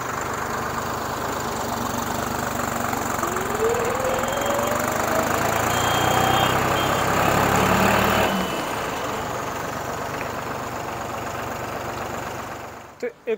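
A Deutz-Fahr Agrolux 55 hp tractor engine idles with a close, steady mechanical drone that drops to a quieter, lower hum about two-thirds of the way through.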